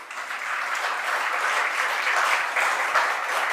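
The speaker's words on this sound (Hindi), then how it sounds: "जैसे आप ताली बजा रहे हैं" An audience at a spiritual talk claps in a steady, dense round of applause, moderately loud and sustained for several seconds with slight swells in intensity.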